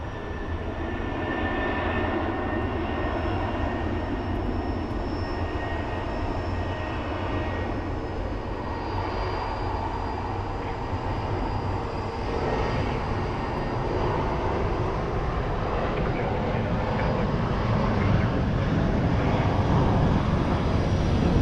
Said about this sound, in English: And JetBlue is going to be taking off.